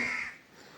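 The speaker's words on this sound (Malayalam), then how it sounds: "കുറേ കാക്കയുണ്ട് കേട്ടോ" Several crows caw harshly at close range, with a loud burst at the start fading into softer calls.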